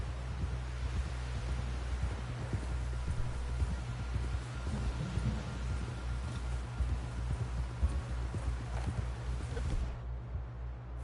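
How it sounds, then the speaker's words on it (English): Steady clip-clop of a horse's hooves trotting along in the video game Red Dead Redemption 2, beneath a constant rumbling wash of noise, rhythmic and fairly close throughout. "Someone help John down off this horse."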